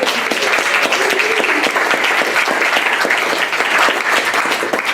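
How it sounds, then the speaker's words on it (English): A community climate panel audience delivers a loud, dense, continuous round of applause that holds steady throughout, with many hands clapping together nearby. "Big round of applause"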